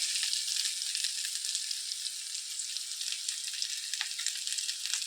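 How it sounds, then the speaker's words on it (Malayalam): Finely chopped onion fries in a pan, giving a steady, close, bright hiss of sizzling with small crackles and no voices. "ഉള്ളി ചെറുതാക്കി കൊത്തി ഇടണം. പെട്ടെന്ന് മൂത്ത് വരും."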